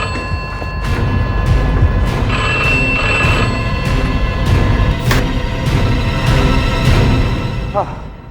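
An old-style telephone bell rings in repeated bursts, loud and close, over a busy, rumbling background with a brief rising chirp near the end.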